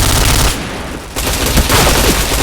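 Rapid automatic gunfire in the online shooter game Point Blank, loud and dense, a continuous burst that pauses briefly before resuming.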